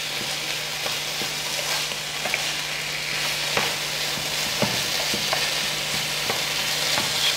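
Food browning in a frying pan sizzles steadily and close, with the occasional scrape or tap of stirring over a continuous hiss.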